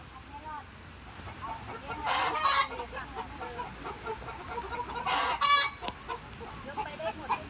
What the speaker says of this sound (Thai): ไก่ฟ้า เลดี้เอ็มเอสนี่